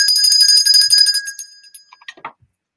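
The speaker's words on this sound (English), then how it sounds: "The levity bell." A comedic levity bell rings out clearly with bright sustained tones for about two seconds, then fades into a few softer trailing dings.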